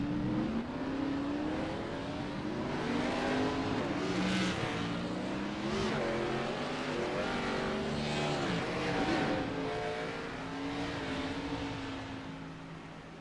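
A pack of Xfinity Series race cars at Bristol rolls off from the grid behind the pace car, with multiple engines droning and revving together in a layered, rising and falling roar that fades slightly at the end.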